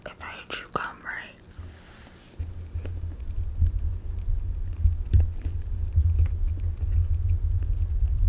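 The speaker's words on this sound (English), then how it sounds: "if I chew gum" Gum chewing in an ASMR mental-health roleplay, close and wet, a steady smacking rhythm under low whispering and a constant rumble.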